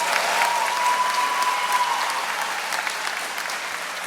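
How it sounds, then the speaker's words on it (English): Sustained applause from a graduation audience at an academy ceremony for the Class of 2021, a steady dense wash of many hands clapping that holds for about four seconds, with a faint tone running through the first half. "So give them a round of applause."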